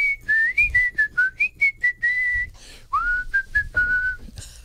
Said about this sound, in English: Every time I hear whistling in a song, I imagine the whistler